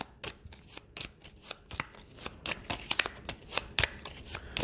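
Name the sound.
shuffling cards in Pathfinder Adventure Card Game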